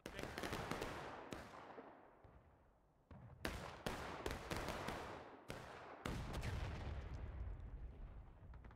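Musket volleys ring out in a Civil War battle game set at Antietam, several sharp broadband cracks in ragged bursts followed by lingering rumbling echoes, with a faint voice shouting commands in the background.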